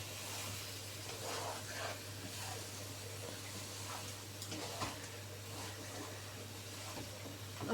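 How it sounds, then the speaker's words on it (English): A pan of cauliflower and potatoes for gobi aloo is stirred over a low, steady cooking sizzle and hum, with faint scraping strokes scattered throughout. "Let's give that a good stir."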